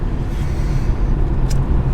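BMW M635CSI cruising on a country road at about 50-60 km/h, its engine a steady low rumble heard from inside the car, with constant road and tyre noise and no talking.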